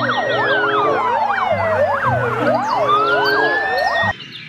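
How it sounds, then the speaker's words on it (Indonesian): A red and black fire truck siren blares loud and close, its rising and falling wails overlapping with fast yelping tones, then stops suddenly. "Ini adalah mobil damkar."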